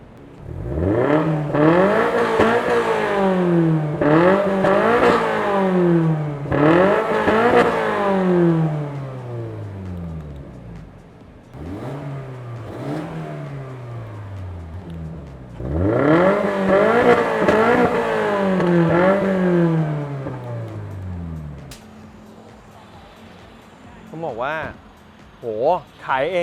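A Toyota GR four-cylinder boxer car exhaust revs up hard several times, each long rising roar dropping back to idle, followed by a few quick short blips near the end.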